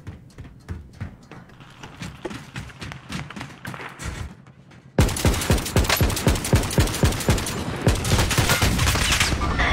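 Rapid video-game gunfire rattles off in dense repeated bursts, quieter at first and then suddenly much louder and sustained, a continuous automatic fusillade of sharp thumping shots.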